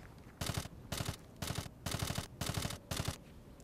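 Automatic rifle fire from a teammate in the Rainbow Six video game, six sharp bursts in a steady rhythm, each lasting about a third of a second with short gaps between, fairly close and alone with no talk.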